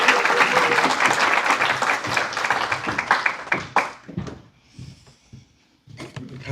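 Applause from a church congregation at a Korean-American Methodist morning worship service, loud sustained clapping from many hands that thins out and fades into scattered claps near the end.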